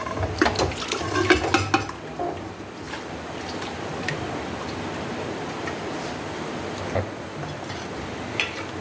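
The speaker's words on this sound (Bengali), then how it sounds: "এবার আমি এই মাংসটাকে একটা কড়াইয়ের মধ্যে ঢেলে নেব।" Cooked mutton is poured and scraped into a kadai, heard as clattering metal and wet squishing near the start, then a low, quieter kitchen bustle with occasional clinks.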